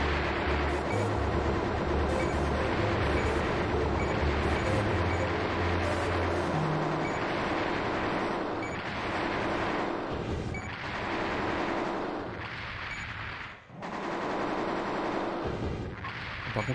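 Rapid automatic gunfire from mechs in the Armored Core video game, dense continuous bursts with heavy low booms and explosions layered throughout, loud and sustained with barely a pause.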